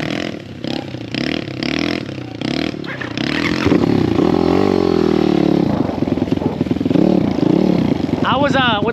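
A 190cc pit bike engine riding on the street, revving and droning loudly and close by with rising and falling pitch, while people talk over it.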